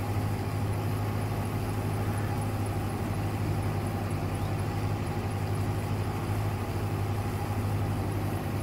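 A vehicle engine drones at full throttle in Farming Simulator 22, a steady loud low hum with constant revving that holds unchanged throughout, no talk over it.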